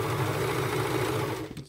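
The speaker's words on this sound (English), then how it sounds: "Once we're done sewing this, we'll go straight to the serger." A serger overlock machine runs continuously while stitching a pocket side seam, a loud steady mechanical whir that slows and stops at the end.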